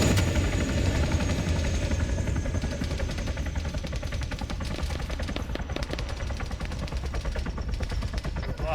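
Helicopter rotor chop from a military video game drones loudly and steadily, with bursts of machine-gun fire crackling over it throughout.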